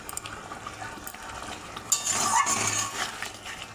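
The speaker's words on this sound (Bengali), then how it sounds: "নাড়াচাড়া করতে করতে কষতে কষতে আমার আরেকটু কষবো" Masala being stirred and fried in a pan while cooking a katla fish curry with drumsticks, with a spoon scraping and clinking and a soft sizzle that swells louder partway through.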